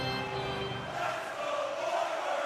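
A hockey video game crowd roars steadily, a dense, sustained arena din with no talk.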